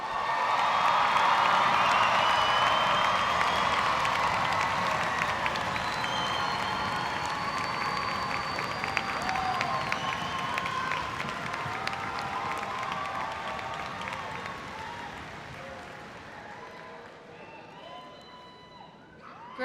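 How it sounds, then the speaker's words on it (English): Loud crowd applause with cheers and whistles at a graduation ceremony, gradually thinning and fading over about twenty seconds as the clapping dies down. "Let's go ahead and give our newest graduates another round of applause."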